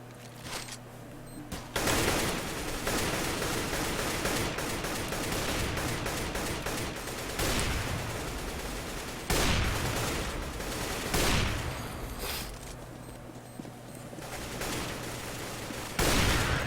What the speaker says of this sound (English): And so finally, after a lot of bullets are exchanged, Syndicate is finally going to find the kill onto Devo